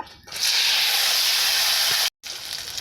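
Fried eggplant pieces hit a hot oil tempering of nigella seeds and dried chili and erupt into a loud, sustained hiss of sizzling. The hiss cuts out for a moment near the end, then resumes.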